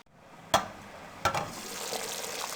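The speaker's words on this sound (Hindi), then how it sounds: "माशाल्लाह बहुत अच्छे तरीके से चावलों को उबाल आ रहे हैं।" Rice cooking with jaggery (gur) in a pot, a steady soft bubbling hiss of boiling broken by two sharp knocks early on, close by and fairly quiet.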